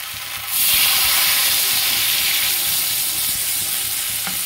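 Water poured onto frying spice paste for a fish curry bursts into a loud, close hissing sizzle after a quieter half second, holding steady and bright, then settling slightly, with no talking.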